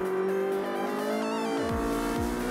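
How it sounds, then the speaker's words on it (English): A Ferrari Challenge race car in a European series event accelerates hard, its engine note climbing loud and close, with a brief tyre scrub as it pulls away. No voices. "Singhania accelerates."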